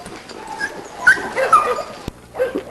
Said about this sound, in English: this is the dog we call Mabel